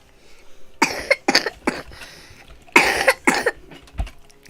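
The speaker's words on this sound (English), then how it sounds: "It's cough time." A person with allergies coughs up close: a cluster of three or four harsh coughs, a pause, then two more forceful coughs and a final short one.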